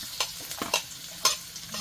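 Chopped onion and garlic sizzle in hot oil while a utensil stirs and scrapes the pan in sharp, irregular strokes, close up and fairly quiet, with no voices.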